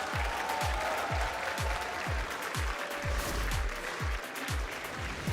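A large arena crowd at the Brawl Stars Championship, a Brawl Cup esports event, applauds and cheers in a dense, steady roar that lasts throughout, with rhythmic thumping beneath it.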